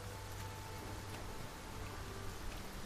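Rain falls in the video game Dragon's Dogma 2 as a soft, steady hiss with faint scattered patter, quiet and continuous with no voices over it.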